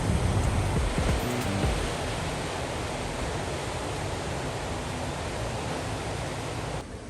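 Steady broadband rush of ocean waves and surf breaking at Noosa Heads at sunset, continuous and fairly loud, with no voices.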